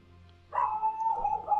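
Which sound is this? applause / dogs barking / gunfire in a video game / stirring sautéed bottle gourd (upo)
dogs barking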